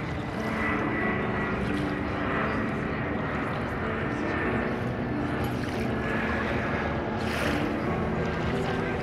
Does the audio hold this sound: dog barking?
no